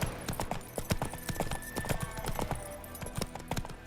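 Roach the horse gallops in The Witcher 3 game, with a fast rhythmic run of hoof clip-clops, fairly quiet and close, over a faint game background.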